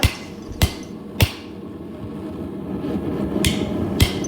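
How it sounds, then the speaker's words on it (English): Sharp metallic hammer blows on hot rebar, forging tongs, ring out one at a time at uneven intervals, five strikes against a low background hum. "I'm just hammering 1 inch back on the rebar"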